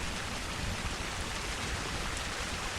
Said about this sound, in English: listening to the soft sound of rain